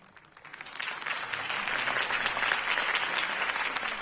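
Crowd applause follows a political campaign speech in Batman: The Telltale Series, a steady wash of many hands clapping that swells over the first second and then holds evenly.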